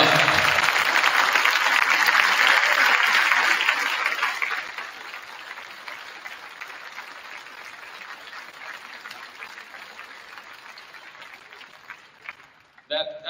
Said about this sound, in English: Clap for the parent committee.